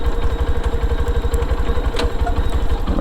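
A Lifan KPR200 motorcycle engine thrums steadily while riding, a near, loud, rhythmic single-cylinder pulse with mechanical clatter and wind noise, with no talking.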